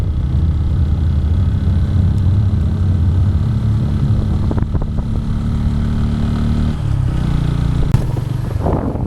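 A motorcycle climbs a ghat road at night on a solo ride from Mumbai toward Lonavala, its engine a steady, close, loud rumble throughout with a brief gear-change dip near the end.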